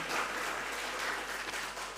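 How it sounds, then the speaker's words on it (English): Soft, steady applause from an audience at an opening ceremony for folk music performers, a distant wash of clapping without clear individual claps, lasting only a couple of seconds. "So give them another round of applause"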